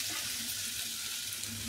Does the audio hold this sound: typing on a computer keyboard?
no